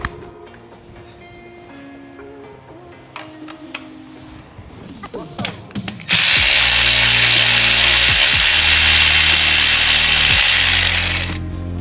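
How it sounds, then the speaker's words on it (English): A power tool loosens the last 8mm bolt on a motorcycle during a Motone Sidekick and chain guard install. A quieter stretch of handling clatter gives way to a loud, steady whirring that runs to the end. "we can now loosen this final 8mm bolt with the 10mm nut that's right up on top"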